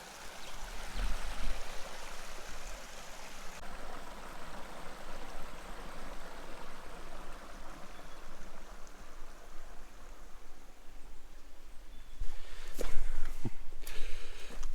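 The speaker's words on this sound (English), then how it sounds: "This is such a cool little creek around here, it's amazing." An Australian mountain creek flows steadily nearby, a constant watery rush and trickle that swells louder toward the end, with a few footsteps or knocks and no speech.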